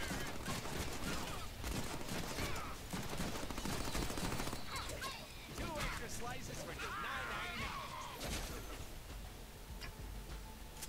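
Shotgun blasts and other gunfire from the Deadpool video game on PS4 form a dense, busy mix of bursts and effects at low level, with people talking over the game throughout.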